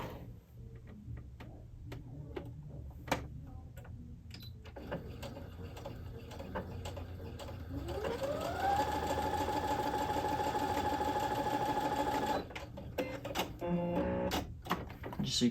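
Baby Lock Presto II sewing machine stitching at a 5 mm stitch length: the motor whirs up to speed partway through, holds a steady, close hum for several seconds, then stops, with light mechanical clicks before and after.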